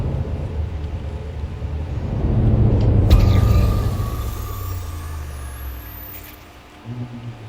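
Asteroid striking a spaceship during icy ring mining in the game Elite Dangerous, a heavy low rumbling impact that swells to a peak and slowly fades, followed by a faint metallic ring.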